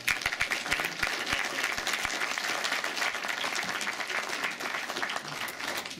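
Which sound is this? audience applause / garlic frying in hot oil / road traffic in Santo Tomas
audience applause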